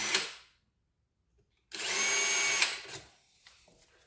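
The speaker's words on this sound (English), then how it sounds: "And then the next step would be basically to drill these holes in the fender." A power drill bores holes in a motorcycle fender to fit a license plate mount with a brake light, giving a brief whir, a pause, then a longer close, loud burst of drilling that tapers off.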